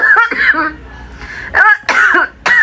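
Several harsh, close coughs in short bursts, separated by brief pauses, with a raspy throat-clearing quality and no speech.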